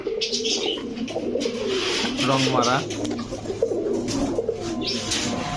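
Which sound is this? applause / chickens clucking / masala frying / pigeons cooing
pigeons cooing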